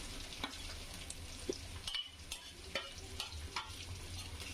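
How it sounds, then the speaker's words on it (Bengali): Ginger and garlic frying in oil for a Bangladeshi-style beef curry, a soft steady sizzle with light scattered stirring clicks, faint and without voices. "আদা রসুনটা আমি একটু ভেজে নিব"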